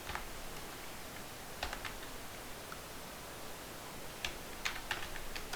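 A few quick bursts of light key clicks on a computer keyboard as style.css is typed, soft and close over a steady background hiss, with a pause between the bursts.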